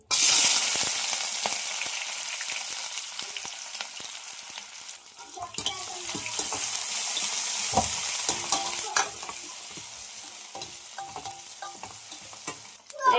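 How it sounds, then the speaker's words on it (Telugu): Onion, green chili and ginger-garlic paste sizzle loudly in hot oil, with steady crackling frying and occasional stirring scrapes running throughout, close and continuous. "ఆయిల్ అయితే బాగా వేడైంది కదా, ఉల్లిపాయ పచ్చిమిర్చి అల్లం వెల్లుల్లి పేస్ట్ వేసుకున్నా."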